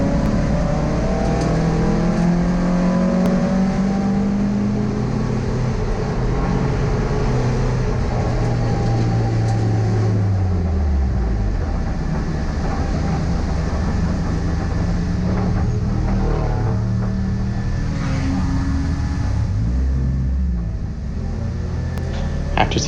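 A race car at Ridge Motorsports Park roars loudly and continuously with heavy throttle, engine pitch rising and falling as it is over-revved on the track.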